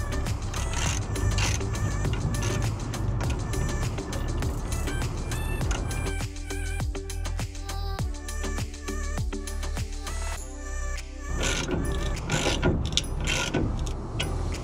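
A ratchet drives 3/8 by 2 inch lag screws with washers into a dump trailer, making rapid, regular mechanical clicks with short pauses between strokes, close by.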